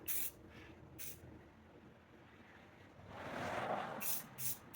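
A spray paint can hisses in a soft, steady burst, with a few short sharp sprays before and after, quiet and nearby, while repainting a garden sign.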